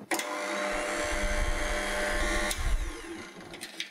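An electric mixer whirs steadily while blending flour, salt, baking powder and baking soda for a pineapple upside-down cake, with rumbling, clattering texture from the dry ingredients and a brief knock near the end.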